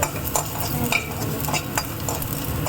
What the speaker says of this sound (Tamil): வானலியில் எண்ணெய் போட்டு கடுகு வெடிச்சிட்டு இருக்கு.